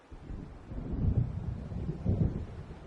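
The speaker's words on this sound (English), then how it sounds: "It seems there's a storm coming." Low, rolling thunder from an approaching storm in a PS4 video game, with two deep rumbling swells over steady wind and rain.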